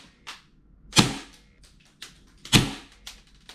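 Airsoft gun shots fired one at a time: two loud, sharp cracks about one and a half seconds apart, each with a fainter click or snap ahead of it, close by with short tails and no talking.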